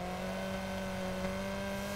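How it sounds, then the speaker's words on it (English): Car engine in the video game Test Drive Unlimited: Platinum, a steady tonal engine hum holding a constant pitch for two seconds, moderately quiet with no speech. "And the cars sound nice too"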